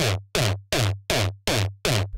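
A gated kick punch built in Serum with three or four unison voices and dropped one octave hits six times in steady succession. Each hit is loud and booming and is cut off sharply, with no talking.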